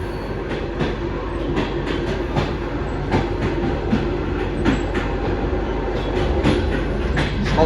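A passenger train rolls steadily on the rails between Almaty-bound stops near Arys, heard from onboard. It makes a continuous loud rumble broken by regular clickety-clack wheel beats, with no talking.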